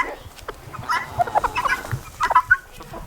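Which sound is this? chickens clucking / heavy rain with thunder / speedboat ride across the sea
chickens clucking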